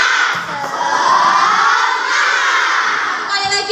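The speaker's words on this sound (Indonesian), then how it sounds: "kita tepuk semangat bareng-bareng ya" Schoolchildren in a classroom chant the spirit clap together, a loud, dense burst of young voices shouting in unison with some clapping, continuous for a few seconds.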